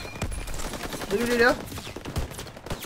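Gunfire in the Call of Duty WW2 video game: sharp shots crack out sporadically at close range, with a whistling sweep in the middle and brief speech in between.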